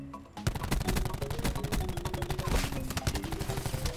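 Black Ops 4 gameplay is full of dense, rapid automatic gunfire. Shots crackle in quick bursts, near and loud, almost without a break.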